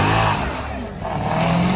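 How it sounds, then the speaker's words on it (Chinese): Rear-wheel-drive sports car exhaust revving hard and close, a loud growling surge that dips briefly and then climbs again. "现在排气管的声音啊"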